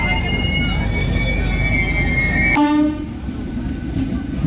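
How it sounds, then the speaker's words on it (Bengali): A passenger train, the Digha–Puri express, rumbles loudly into Tamluk station, a sustained horn blaring over the rolling clatter before the noise drops back. "তমলুক স্টেশনে আমাদের ট্রেন ঢুকেছে"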